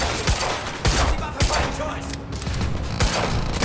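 Gunfire in the video game Quantum Break: loud bursts of rapid shots crack out over a dense, noisy firefight, with sharp impacts and brief pauses between volleys.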